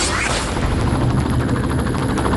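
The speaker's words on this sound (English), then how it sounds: "The helicopter's getting too close." A helicopter hovers low and close overhead, its loud, steady rotor thump and engine roar filling the whole stretch without a break.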